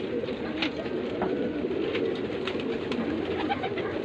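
Pigeons cooing and fluttering at a rooftop pigeon loft in Bulaq al-Dakrour, soft coos and occasional wing flaps under a constant hissing background noise.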